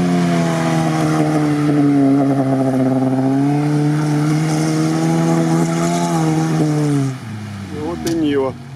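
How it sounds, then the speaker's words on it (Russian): A Lada Niva off-road car with a locked rear differential drives through rough terrain, its engine droning loudly and steadily, rising slightly in pitch, then easing off near the end. People talk over it. "Вот и Нива. Очень круто едет."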